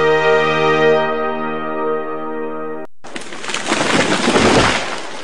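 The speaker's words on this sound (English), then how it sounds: "That was the sound of a tree falling." A tree falling, staged as a radio sound effect: a sustained ringing tone gives way after about three seconds to a loud, close crash and rumbling roar that slowly fades.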